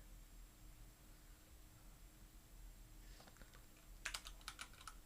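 Someone types on a computer keyboard in short, quiet clusters of clicks toward the end, after a stretch of faint room hiss, with no talking.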